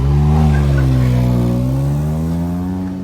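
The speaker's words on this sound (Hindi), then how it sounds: "गाड़ी खोलिए।" A car engine revs with a steady, loud droning hum that rises slightly in pitch and then eases off, with no voices over it.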